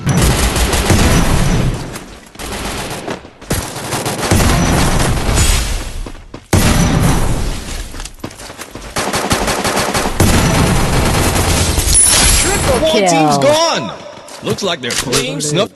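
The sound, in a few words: gunfire in the video game Free Fire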